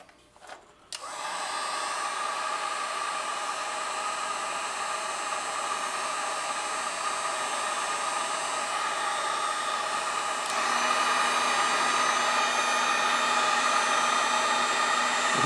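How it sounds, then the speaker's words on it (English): A heat gun blows with a loud, steady hissing roar while shrinking a sleeve over a starter switch button, the airflow tone shifting slightly partway through and running alone throughout. "Grab my heat gun."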